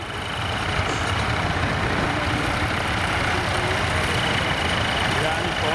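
A restored Nuffield tractor with a big straight six-cylinder Perkins engine runs at a rural show, a continuous loud rumbling drone, steady and close, with a voice talking over it.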